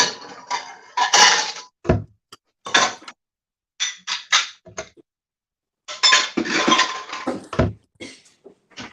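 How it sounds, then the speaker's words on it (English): Dishes clatter and clink in a home kitchen, bursts of ceramic and metal knocks, scrapes and rattles coming in irregular clusters with short silent gaps between them, fairly close and loud. "sounds like she's breaking her dishes."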